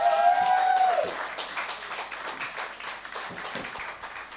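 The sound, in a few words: applause for a singer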